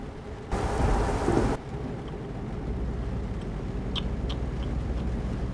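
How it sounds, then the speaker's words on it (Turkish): Heavy rain in Euro Truck Simulator 2 hisses steadily, with a loud burst of downpour or rumble early on, then continuous rainfall with a few faint ticks. "Ya ne pis yağmur ya"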